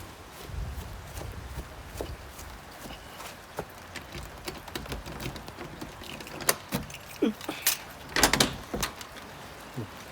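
Keys jangle and a lock clicks as an observatory dome door is unlocked and opened on a rainy late afternoon, with scattered clunks, rattles and a few footsteps close by over steady rain hiss.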